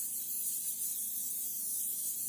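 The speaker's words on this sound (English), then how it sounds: "Instead of using oil, cooking spray actually works great." Cooking spray hissing from an aerosol can onto a pan while making beef dip, one continuous bright spray lasting a couple of seconds, close and steady.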